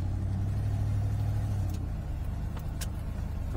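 A car driving through the streets of San Sebastian, Spain, its engine a steady close rumble that eases off midway while faint higher noises pass by outside.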